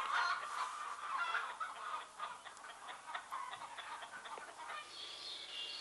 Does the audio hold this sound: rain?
no